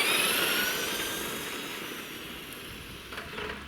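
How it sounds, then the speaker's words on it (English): A Traxxas Slash Ford Raptor F-150 Fox Edition RC truck on its first run, its high electric whine loudest at the start and gradually fading as it speeds away. "Traxxas Ford F-150 Fox Edition, given it its first run, let's see how fast it can go."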